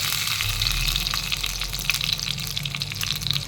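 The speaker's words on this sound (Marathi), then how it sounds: "मी इथे पॅन गरम केलेला आहे, त्याच्यामध्ये एक मोठा चमचा मी तूप घालून घेत आहे" Ghee sizzling in a hot pan while tempering for masoor dal, a steady crackling hiss with faint spattering pops, close and continuous throughout.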